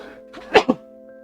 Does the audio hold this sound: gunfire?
no